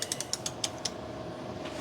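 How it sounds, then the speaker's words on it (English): A ratchet clicks in a quick series of sharp ratcheting pulls while tightening tensioner bolts on a 1993 Chevy Blazer, close and moderately loud, then falls quiet. "Now we'll torque everything down. Tensioner to 61 foot-pounds."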